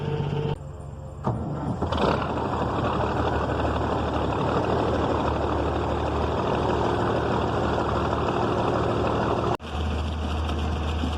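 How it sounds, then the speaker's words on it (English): A farm tractor runs a manure pit pump at moderate throttle, producing a steady low engine rumble with a constant mechanical hum, interrupted by a couple of brief dips, heard close and alone. "I ain't running the tractor real hard"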